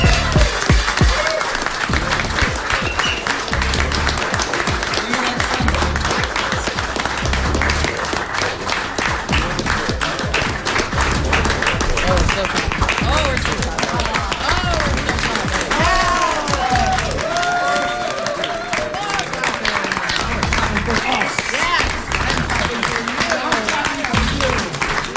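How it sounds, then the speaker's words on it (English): A studio audience keeps applauding at the end of a tech talk show, a sustained dense wash of clapping with scattered cheers and voices lasting the whole time. "We just got the most awkwardly long clap"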